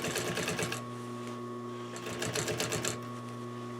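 A sewing machine runs in short bursts, stitching striped fabric for a cushion, its fast rhythmic needle clatter and humming motor close and clear, pausing briefly between runs.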